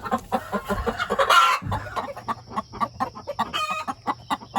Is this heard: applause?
no